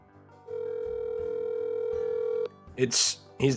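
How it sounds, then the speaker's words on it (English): A steady electronic ringback tone on a phone line lasts about two seconds, then stops as a person begins speaking. "Can you hear it ringing, Tubbo?"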